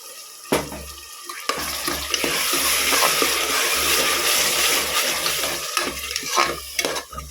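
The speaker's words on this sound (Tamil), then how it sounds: "இது கொஞ்சம் நேரம் நல்லா வதங்கட்டும்" Tomato paste sautéing with ginger garlic paste for tomato rice, a steady close sizzle with scraping stir strokes throughout and no talking.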